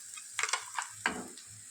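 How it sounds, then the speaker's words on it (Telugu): Coriander and green chili paste hits hot tempering oil in a pan, giving short bursts of close sizzling and crackling with a few stirring scrapes, no voices. "ఇప్పుడు మనము రెడీ చేసి పెట్టుకున్నటువంటి ఈ కొత్తిమీర, పచ్చిమిర్చి పేస్టుని తాలింపులో వేసుకుందాము"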